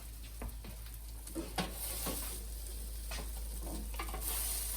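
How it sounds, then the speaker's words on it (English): Browned cauliflower sizzling and frying as it is stirred into a soup pot for cauliflower potato soup, with steady crackle and scattered scraping stirs, close and moderately loud, no talking. "I'm going to throw the cauliflower into my pot now, into my soup pot."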